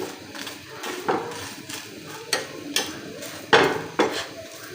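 A roti fries in oil in a pan, soft sizzling under repeated clinks and scrapes of a utensil turning and pressing it, the knocks arriving in irregular bursts close by.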